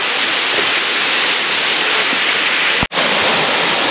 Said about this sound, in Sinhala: ඇත්තටම අද මේ හොඳ වතුර පාරක් තියෙනවා.